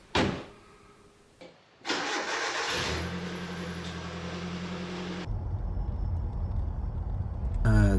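Nissan Hardbody pickup truck engine starting and running on a test drive after an idle air control fix, a steady mid-pitched engine drone with brief revving that rises toward the end.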